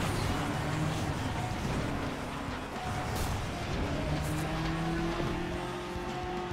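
In FlatOut Ultimate Carnage, a race car engine roars steadily and loudly with dense, continuous noise and shifting engine tones throughout.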